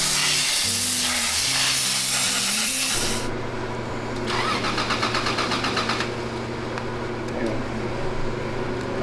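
A Toyota Supra Turbo's starter cranks over repeatedly without the engine catching, a loud close whirring that cuts out and resumes, with people talking over it.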